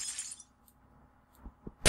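Glass breaking in a video game: a fading burst of bright shards at the start, quiet, then a few dull knocks and a sharp crack at the end.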